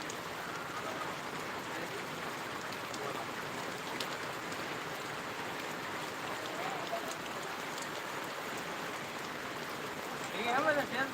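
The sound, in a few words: rain falling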